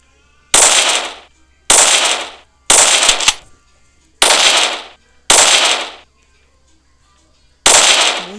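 Gunfire from a zombie-apocalypse shootout in the Draw Bricks video game: six loud, close bursts, each with a sharp attack and a rattling decay of about half a second, spaced roughly a second apart with a longer pause before the last.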